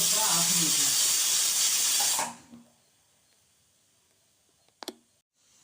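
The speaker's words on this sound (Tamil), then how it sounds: "இது பாருங்கள், குக்கர் விசில்" A loud, sustained hiss of steam rushes from a pressure cooker whistle for about two seconds, then cuts off, leaving near silence broken by a couple of brief clicks.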